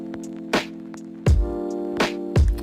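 Lofi hip hop chords played softly at velocity 103 on a keyboard sound, sustained tones broken by a few sharp percussive hits, alone and fairly quiet, with no speech.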